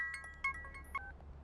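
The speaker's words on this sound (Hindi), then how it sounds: "फोन लगा उसे।" Telephone ringing on an incoming call, a short electronic ringtone of tonal beeps with two louder pulses, heard alone at close range.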